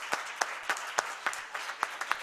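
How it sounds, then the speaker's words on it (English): A few people at a school board business meeting clap for student artists, producing sparse, separate hand claps in an irregular rhythm, close and fairly quiet. "so give them a round of applause"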